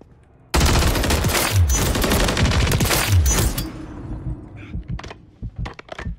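Rapid automatic gunfire in a video game, a dense, loud burst lasting about three seconds, trailing into a few scattered single shots and clatter.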